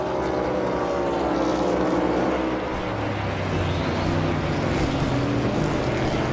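NASCAR Cup cars race at Indianapolis in 2023, with Chase Elliott braking hard into turn 11; a steady, dense engine roar stays loud and continuous throughout, with no speech.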